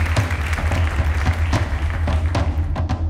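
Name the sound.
audience applause on a TV quiz show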